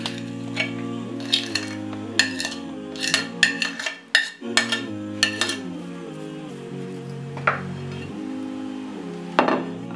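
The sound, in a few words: mixing ground lentils and chicken in a bowl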